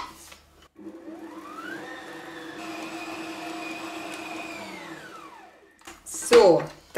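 A stand mixer with dough hooks kneads sticky dough for fried meat-filled pastries, a steady motor whine that rises in pitch and holds, then winds down, ending with a short clatter.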